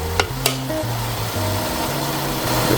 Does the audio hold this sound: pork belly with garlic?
yes